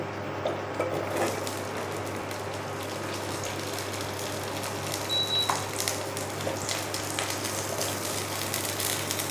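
Okra frying in a pan with green chillies for a Bengali-style bhindi posto: a steady, soft sizzle that runs throughout, with a few faint clinks and scrapes near the start and middle.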